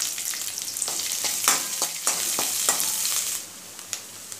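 Finely chopped large onion with curry leaves sautéing in a pan for tomato sevai, a bright continuous sizzle broken by repeated scraping strokes of a spatula, then the frying quiets a little near the end.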